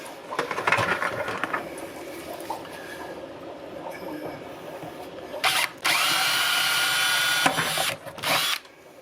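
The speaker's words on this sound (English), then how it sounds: "So let's get those holes drilled." A power drill bores holes through a plastic bucket, making two loud sustained high-pitched whines with a brief pause between them, after quieter handling and clattering.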